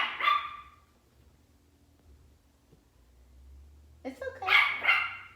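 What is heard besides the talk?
dog barking at a garbage truck at the window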